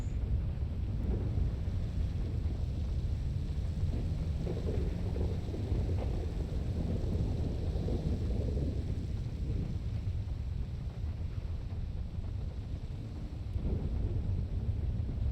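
A thunderstorm with heavy rain and rolling thunder, a dense continuous low roar and rumble that stays loud throughout with no voices.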